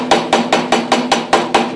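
A metal lanyard ring on a handmade crook knife is flared by hammering it over a bevelled air fitting, giving eight sharp, evenly spaced metallic strikes in a steady rhythm, close and loud with no talking.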